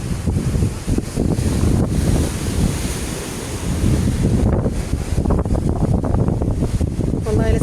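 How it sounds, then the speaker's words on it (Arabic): Sea waves break and surge continuously along the coast at Safi, loud and close with heavy wind buffeting the microphone and a voice faintly underneath. "البحر المواج زوينين"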